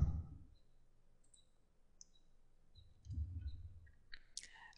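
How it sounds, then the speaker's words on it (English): Sparse, faint computer mouse clicks while annotating a PDF in an online reader, a handful of sharp isolated taps spread over quiet room tone, with a low soft thump or two between. "You can click anywhere on the screen, or you can click and drag a box."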